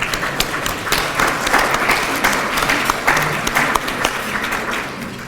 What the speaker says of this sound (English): let's give a round of applause to Campus Dining for preparing and serving this afternoon's lunch